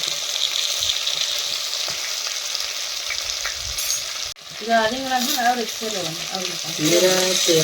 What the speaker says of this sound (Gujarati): તો રીંગણા જો બધા તેલમાં મેલી દીધા.